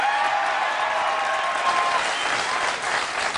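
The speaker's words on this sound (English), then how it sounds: "There was big applause for that." Sustained applause from a large television studio audience, loud and even, clapping blending into a dense wash that holds steady throughout.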